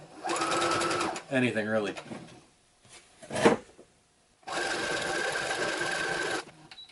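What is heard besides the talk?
sewing machine doing a zigzag stitch across pleated fabric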